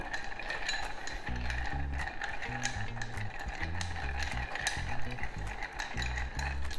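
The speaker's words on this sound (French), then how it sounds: "on va venir avec cette grande cuillère mélange, on va venir mélanger dans notre verre pour refroidir le cocktail" A long metal bar spoon swirls a Manhattan cocktail over ice in a mixing glass, giving a steady, close run of rattling, clicking ice against glass that carries on without pause.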